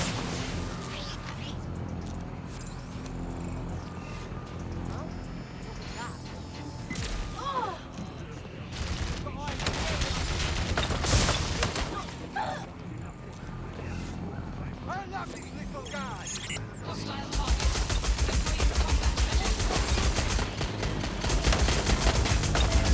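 Gunfire in the video game Watch Dogs Legion: bursts of automatic fire and scattered shots in a loud, busy firefight, with radio-style voices talking over the shooting and a sustained intense volley near the end.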